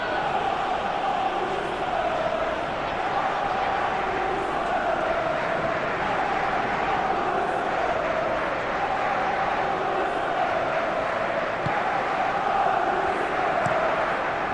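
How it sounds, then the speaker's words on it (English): Stadium crowd noise in the PES 21 football video game, a dense, sustained roar of cheering and chanting that swells in waves and holds steady throughout, loud and continuous. "it certainly got the crowd going"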